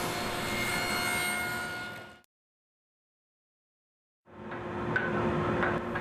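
A table saw rips a tapered leg with the workpiece held in a tapering jig, a steady loud whine for about two seconds, then silence, then the blade noise returning as the next pass begins.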